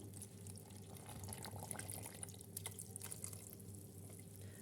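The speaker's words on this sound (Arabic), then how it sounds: "غادي نزيد كل ربعه ديال الشوفان غادي نديروا ليها ايطرو ديال الماء" Water pours in a steady, moderately loud stream into a bowl of oats, with drips and splashing over a constant low hum, no voices present.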